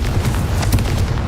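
A Confringo spell blast in Hogwarts Legacy bursts as a loud, dense, rumbling boom with crackling debris, short and close.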